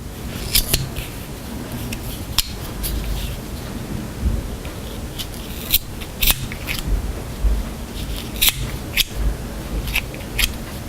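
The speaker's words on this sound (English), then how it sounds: "And then you trim the edges." Scissors trimming yarn ends on crochet snip several times in irregular bursts, sharp crisp clicks standing out over a soft background hiss, close by and without speech.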